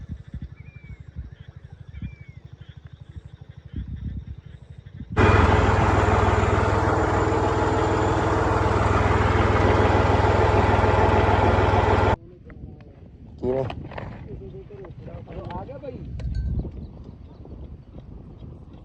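A borewell engine in a Punjab field runs with a rhythmic low thumping and then roars loudly and steadily for several seconds, with people talking nearby before and after the loud stretch.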